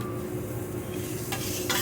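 Tuna sears on a hot cooking surface with a steady, close sizzle, and brief scraping or stirring sounds break in near the end.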